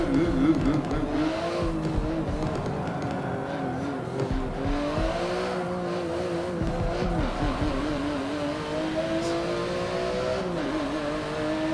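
A race car driven in the PC racing game Forza 7, its engine droning steadily with a wavering, undulating pitch as it holds speed, loud and continuous, with no one speaking.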